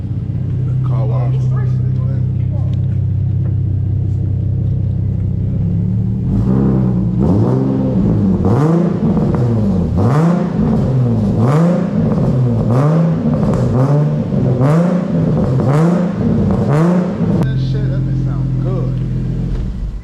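An Infiniti car with an untuned aftermarket exhaust rumbles deep and loud from close by while driving, then pulses through a run of rhythmic revs with a throaty burble, as people talk over it.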